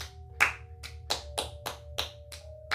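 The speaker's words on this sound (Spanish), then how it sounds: "escuché claramente como si alguien estuviera aplaudiendo" Hand claps in a circus tent, about eight sharp, evenly spaced claps ringing out one at a time against a quiet low hum, with no one talking.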